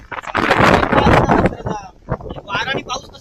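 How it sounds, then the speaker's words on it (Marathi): Strong monsoon wind buffets the microphone in heavy gusts, with rain blowing around an umbrella outdoors near the sea. Brief voices can be heard between the gusts. "वारा पाऊस हा छत्री बघा छत्रीची अवस्था काय ती बघा"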